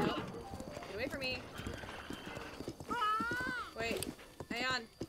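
Clip-clop of a horse's hooves galloping in the game Breath of the Wild, steady rhythmic thuds with a brief whinny, under game music and a voice talking over it.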